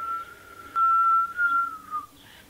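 A thin, wavering whistle with a few breathy, uneven tones that break off and restart, fairly close and quiet.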